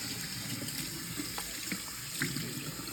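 Tap water runs steadily while a Persian cat is bathed, a close continuous splashing hiss with small fluctuations from the flow hitting fur and basin.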